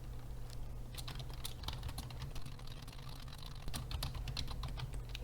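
Rapid keystrokes on a computer keyboard, typed in quick irregular bursts of sharp clicks close by, with no voices.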